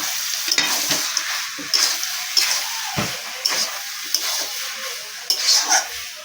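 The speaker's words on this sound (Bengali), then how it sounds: "গরম মশলাটা দিয়ে ভালো করে ভেজে নেব" Banana flower curry sautéing with garam masala in a pan, a steady close sizzle broken by repeated scrapes and clinks of a spoon stirring through it.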